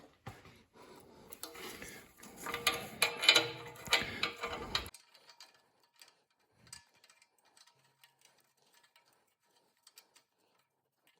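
A wrench tightens an O2 sensor on a Chevy Silverado in a short burst of ratcheting clicks and metal scraping, close up, followed by sparse faint ticks and taps with near silence between them.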